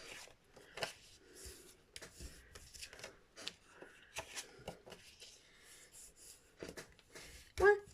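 Paper is folded and creased by hand for a scrapbooking gift, with soft rustles, rubbing strokes and a few sharper crinkles, close and intermittent, ending in a louder crisp snap of paper.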